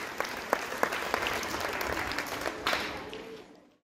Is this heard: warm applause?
yes